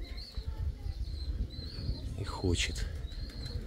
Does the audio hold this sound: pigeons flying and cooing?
yes